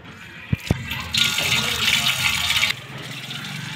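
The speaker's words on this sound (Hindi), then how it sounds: "पहले जो है गोभी को धो लेते हैं।" Cauliflower being washed under running tap water in a village kitchen, two sharp knocks followed by a steady rushing stream for about a second and a half before the flow stops.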